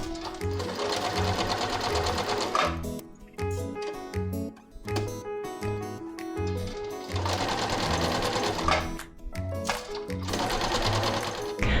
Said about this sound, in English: you're going to go to your sewing machine or hand sew straight down this short side of the fabric